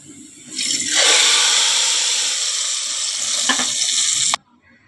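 Sliced onions dropped into hot oil to temper Lucknowi khichda, a loud, close sizzle that bursts in, holds steady for several seconds, then cuts off abruptly.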